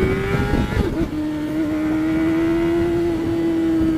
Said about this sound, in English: this bike, which is a 2019 YZ450FX that I made into a street legal supermoto